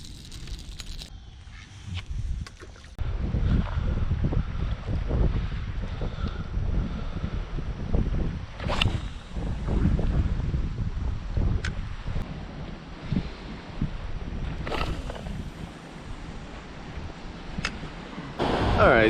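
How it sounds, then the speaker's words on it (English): Wind blowing steadily across an ocean beach during surf fishing in a northeast breeze, a loud continuous rumbling buffet on the microphone with crashing surf underneath and occasional sharper gusts. "We got a nice like 10-mile-an-hour northeast wind, which is perfect."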